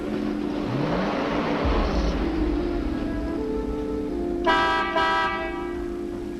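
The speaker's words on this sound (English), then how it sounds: "She honks the horn." A car horn in the 1945 film Conflict sounds on a rainy mountain road with hairpin turns, two short honks over dramatic orchestral music.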